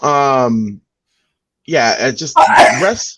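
A single sneeze bursts out at the start, followed after a short pause by people talking.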